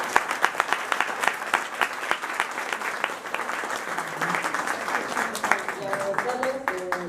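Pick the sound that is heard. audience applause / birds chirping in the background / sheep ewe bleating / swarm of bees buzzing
audience applause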